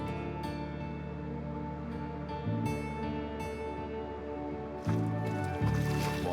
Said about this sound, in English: What with the bubbling mud